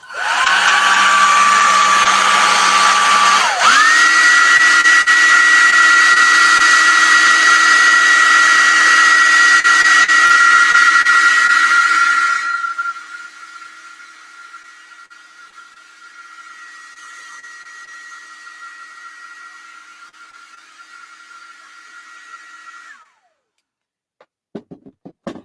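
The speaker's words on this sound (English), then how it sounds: "I want to hit it with the hair dryer quickly." Hair dryer blows on fresh paint on a pink race car, a loud steady whine that shifts pitch early on, drops to a quieter setting midway, then cuts off, followed by a few faint clicks.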